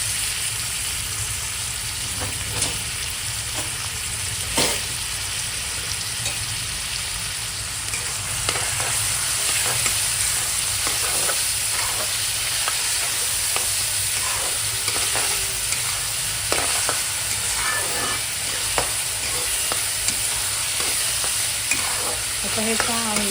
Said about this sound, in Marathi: आणि आता कांदा आपण जो कापलेला होता तो त्याच्यामध्ये मिक्स करूया।